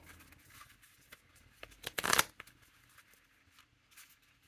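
A stack of playing cards being cut, a short flurry of crisp papery riffles and slaps, close and fairly faint, building to a brief louder burst and then settling into light handling taps.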